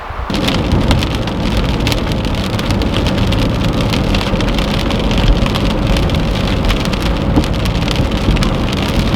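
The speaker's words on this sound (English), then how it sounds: "I'm hearing thunder and it's starting to rain" Heavy rain pours steadily on a surface in the High Sierra near Ebbetts Pass, with thunder rumbling low underneath, a dense, constant downpour that fills the whole stretch without a break.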